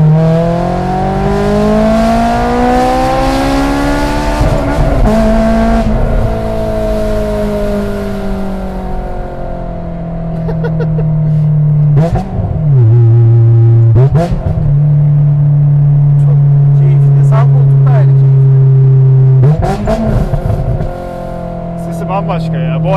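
A Honda S2000 engine revs up and settles repeatedly, a loud throaty drone rising and falling with sharp blips between, close by and continuous.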